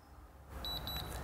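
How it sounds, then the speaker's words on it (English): A quick series of four high electronic beeps from a Hunter ROAM irrigation remote confirming a zone, faint and close, over a low background hum. "get your two beeps, and now we're watering that zone."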